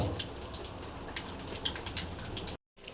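Curry leaves crackle and sizzle in hot oil while tempering for pirandai chutney: a steady, busy spatter of fine pops runs without a break, then cuts out briefly near the end before resuming.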